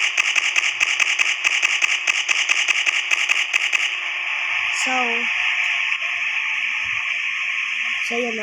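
Builderman's sentry turret in the Roblox game Forsaken fires a rapid, steady burst of crackling shots for about four seconds, followed by a lingering electronic hum and a few short game tones.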